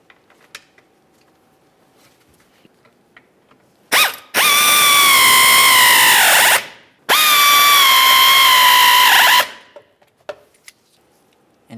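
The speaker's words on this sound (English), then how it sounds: "Let's make our way to the back side of this and put in our two T20 screws." A powered ratchet drives two T20 screws into the front bumper of a 2005-2010 Dodge Dakota, with two loud, close whirring bursts of about two and a half seconds each, their pitch dropping as each screw seats.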